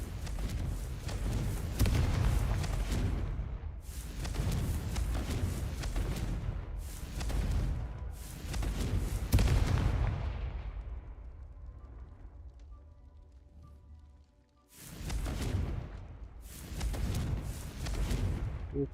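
Booming spell explosions from Confringo casts in the Hogwarts Legacy video game, several loud broad blasts in quick succession with decaying tails, a quieter gap with faint tonal chimes, then two more bursts.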